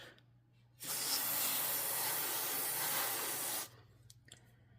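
Real Avid Gunk Buster cleaner sprays onto a Sig Sauer P320 pistol slide in one continuous, loud hissing burst of about three seconds, close up, followed by faint drips and ticks.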